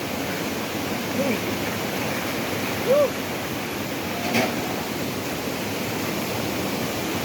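Steady rushing water at Mapita Falls fills the clip with a constant broadband roar, while a few faint short calls or squeaks poke through now and then.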